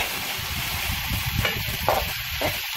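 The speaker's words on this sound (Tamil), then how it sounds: "அந்த கோவாவை இந்த ஆயிலோடு நல்லா வதக்கி கொள்ளுவோம்." Finely cut cabbage fries in oil for a Sri Lankan-style dish, with a continuous hissing sizzle and a few soft scraping stirs of a spoon in the pan.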